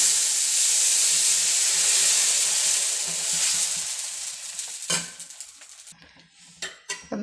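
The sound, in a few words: dosa batter sizzling on hot griddle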